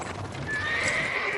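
A horse neighs and whinnies with hoof clip-clops on a farm, the call rising clearly over shuffling steps, close and fairly loud, with no talk.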